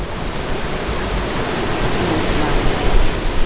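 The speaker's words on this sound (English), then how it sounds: "This is literally beach." Steady broadband wash of surf rolling onto a beach on the French side of Saint Martin, fairly constant and moderately loud, with no voices or other distinct sounds.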